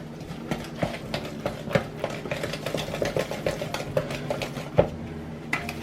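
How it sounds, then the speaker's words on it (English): A small whisk beats egg into pancake mix in a bowl, giving quick irregular clicks and taps against the sides, close by and without talk. "Get your little whisk and whisk it all together."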